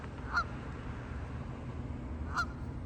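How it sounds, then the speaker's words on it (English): Geese honk outdoors, with two short, clear calls a couple of seconds apart over a steady background rumble. "Every time they make their honking noise, you can kind of see their mouths, their beaks moving."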